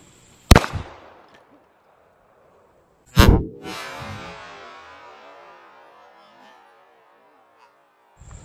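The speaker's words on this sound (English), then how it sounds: "after you shoot the Gunmeister reactive target, you got this to deal with every time" Two loud .45 ACP pistol shots ring out at a reactive target, spaced a few seconds apart. The second blast trails into a long, fading rumble that lasts several seconds.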